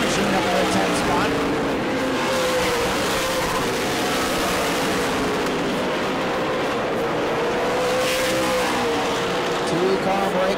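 Super Late Model race cars racing on the New Smyrna oval track during the Orange Blossom Super Late 100, a continuous loud engine roar that swells and fades as the cars pass, under a commentator's voice.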